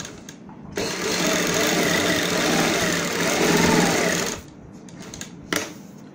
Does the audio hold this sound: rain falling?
no